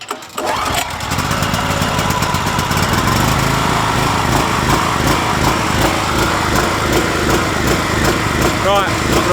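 An Einhell TC-PG 3500W petrol generator starts and then runs at a steady, loud, high-pitched engine drone, close by and continuous for the whole stretch.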